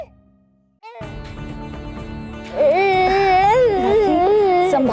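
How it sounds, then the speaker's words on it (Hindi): A baby girl wails loudly and close by in a home, her cries rising into wavering, sustained sobs over a background of music and room sound. "रोने की आवाज हमसे बर्दाश्त नहीं हो रहा है"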